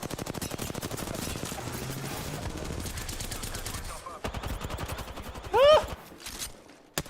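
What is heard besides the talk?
gunfire from squad firefight in video game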